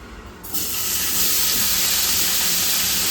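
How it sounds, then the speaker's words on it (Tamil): Paneer cubes dropped into a hot oiled pan while cooking paneer fried rice, breaking into a loud, steady sizzle that swells after the first half second and holds as continuous bright hissing. "இப்போ வந்து நம்ம பன்னீரை போட்டுடலாம்."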